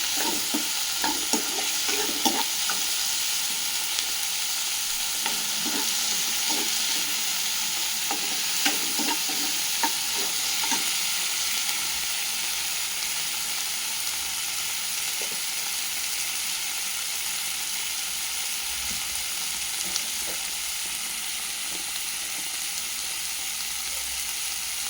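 Onions sauté in a pan with a continuous hiss of frying oil, broken by occasional soft scraping stirs, steady and moderately loud throughout.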